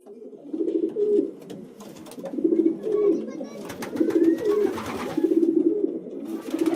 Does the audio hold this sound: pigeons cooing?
yes